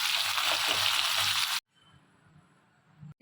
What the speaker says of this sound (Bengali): তেল গরম হয়েছে, পেঁয়াজ দিলাম